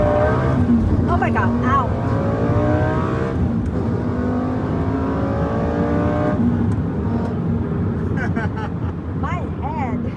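Lamborghini Gallardo accelerating hard, its engine roaring loudly up through rising revs with gear changes, heard from inside the car while an occupant exclaims over it.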